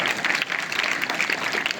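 Dense applause from a school crowd at a Republic Day function in Malegaon, a continuous close patter of many hands clapping for the students' performance.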